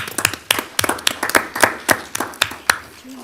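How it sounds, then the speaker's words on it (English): Audience applause at a district board of health meeting: a few people clap in a sparse, uneven rhythm of distinct sharp claps, fairly close, fading out after about three seconds. "give them a round of applause for their wonderful efforts"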